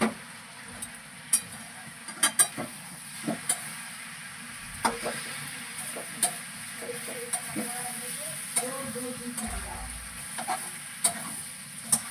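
Fish curry with potato and cauliflower being stirred in a cooking pan, soft sizzling under scattered sharp clicks and scrapes of a utensil against metal, close and moderately quiet.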